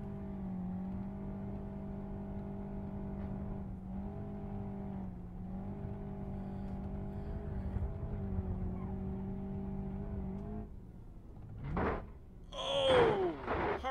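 A car in BeamNG.drive takes a hard side impact in a crash test: a steady engine drone gives way near the end to several loud crunching collision bursts.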